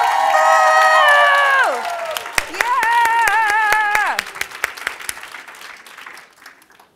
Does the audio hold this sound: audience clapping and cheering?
yes